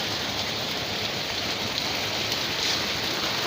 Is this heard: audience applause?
no